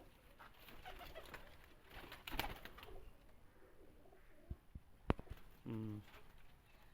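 Pet pigeons, sold as breeding pairs, give a short low coo near the end against a quiet room with faint rustling and a few sharp clicks.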